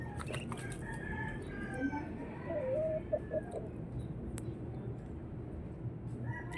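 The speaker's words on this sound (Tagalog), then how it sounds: "Ang lalaki ng manok nila." Large chickens cluck and a rooster crows at a rural Filipino farmyard, the calls faint to moderate over a steady wash of background noise, with short bird chirps scattered throughout.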